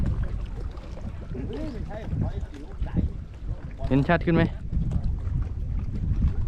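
Strong wind gusting over open water while a small fishing boat rocks, heard as steady low rumbling wind noise on the microphone with people talking over it.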